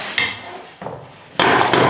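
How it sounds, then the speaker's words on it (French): Hammer strikes on a wooden shelf panel during marking with a centre punch, with three sharp knocks, the last ringing out longer, close and clear in a workshop. "Un petit coup de marteau, toujours le système miroir"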